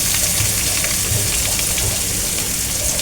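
Onion and garlic frying in oil for a Bangladeshi leafy greens stir-fry, a loud, dense, continuous hiss-like sizzle that holds steady throughout, close up, with no speech.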